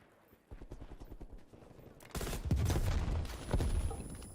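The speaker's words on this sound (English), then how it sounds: "So I'm using the M16, get a quick kill." Rapid bursts of M16 rifle fire in Call of Duty: Black Ops Cold War crackle loud and close, a short stuttering volley that builds into heavier sustained shooting with punchy low-end thumps.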